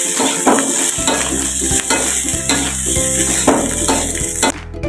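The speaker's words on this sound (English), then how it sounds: "Stir until evenly mixed." Fried rice with soy sauce sizzles in a pan while a utensil stirs it in repeated scraping strokes, loud and close with light metallic clinks.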